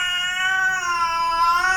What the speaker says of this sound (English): The mother cat, who is staying in this compound, is not happy to see our cats.